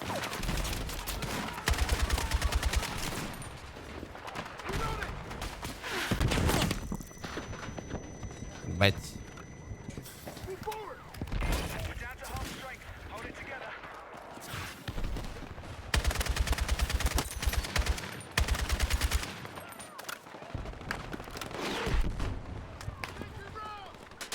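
Gunfire in the video game Battlefield 6 on the New Sobek City map, with bursts of rapid weapon fire recurring throughout amid game effects, while a player talks over it.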